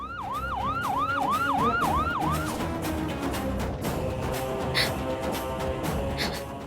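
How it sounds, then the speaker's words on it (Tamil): A wailing ambulance siren heard over a phone sweeps up and down in repeated cycles for a few seconds, then fades into a steady hum of background noise. "ஆம்புலன்ஸ் சத்தம் பேசுறவனோட மொபைல்ல இருந்து கேக்குதுன்னா அவன் இங்கதான் எங்கேயோ பக்கத்துல இருக்கான்"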